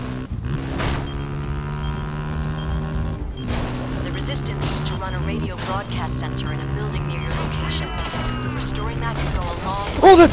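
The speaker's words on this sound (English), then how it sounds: "That's a lot of booms!" Explosions in the video game Homefront: The Revolution, a string of sharp booms landing every second or two over a droning, tonal game soundtrack.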